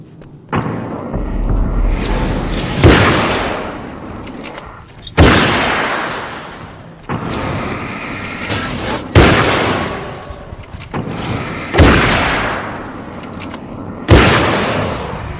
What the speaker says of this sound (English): this hunter rifle does a lot of damage